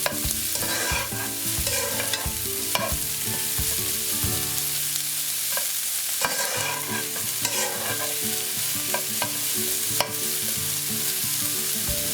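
Onions hiss and sizzle loudly in a hot pan, with occasional stirring scrapes. The frying noise is continuous and close, with a melodic background track underneath and no talking.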